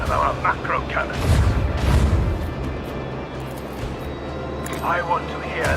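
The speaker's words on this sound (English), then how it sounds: "I want to hear the macro cannons roar." Macro cannons on a starship fire in the Warhammer 40,000 game Rogue Trader: heavy, deep booms roll out around the middle, set against a low engine rumble, while a character's voice speaks before and after.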